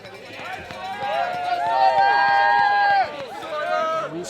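Teammates cheer on a ski jumper at the top of the hill before his jump at a high school NHIAA ski jumping meet, with excited whooping voices rising over a commentator's talk.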